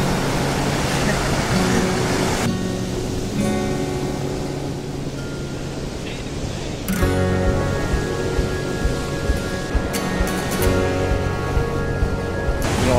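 Strong wind gusting across an ocean beach on the 90 Mile Beach in Gippsland, Victoria, with surf rumbling behind it, a continuous broadband roar that stays loud throughout and swells slightly in the second half.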